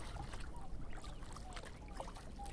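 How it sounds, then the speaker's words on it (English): A paddle dipping into the calm water of Okarito Lagoon as a small boat glides across, soft trickles and splashes over a low outdoor hush, faint and close, with no talking. "I'm just paddling us across."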